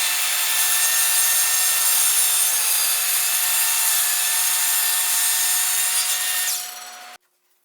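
A power saw cuts steadily through taped walnut plywood, a loud, continuous whining rasp lasting several seconds before the blade spins down and stops abruptly.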